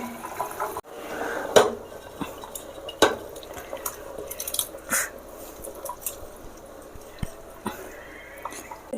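Khichuri of Gobindobhog rice and dal, with spiced vegetables added, is mixed in a pot, producing sporadic utensil clinks, scrapes and soft wet squishes at an irregular pace, fairly quiet and without speech.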